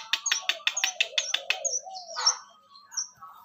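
A 12-day-old bush lark chick, just out of the nest, gives a quick series of high, sharp chirps close by, followed by a few softer, scattered calls.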